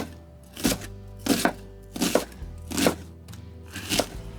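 A knife chops onion on a cutting board in five or six spaced, close, firm strokes, each a quick crunchy thud followed by a short pause.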